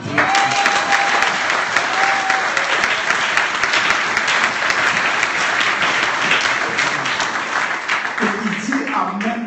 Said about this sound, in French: Si tu acclames, acclame maintenant.